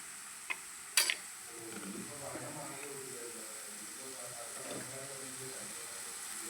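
Masala for ivy gourd pickle stirred after salt water is poured in, giving soft wet scraping and swishing with a couple of sharp clinks near the start; a faint voice murmurs in the background.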